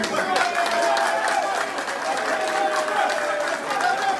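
A political rally crowd applauds continuously and steadily, a dense wash of clapping with mingled voices, fairly loud and sustained throughout.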